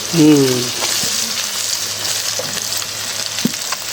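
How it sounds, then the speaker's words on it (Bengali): Fish sizzles steadily in hot oil in a wok over a lowered flame, a soft continuous hiss with a few faint clicks, while a voice speaks briefly at the start. "এখন চুলার জালটা কমাই দিছি মাছ ভাজার জন্য, মানে ভাজাটা ভালো হয়।"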